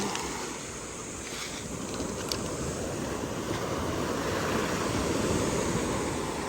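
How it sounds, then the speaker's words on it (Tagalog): Broad, steady roar of big ocean surf in Quezon, Philippines, with waves rolling and crashing continuously, a dense wash of water noise with a faint wind hiss. "Gawa ng alon. Malalaki ang alon."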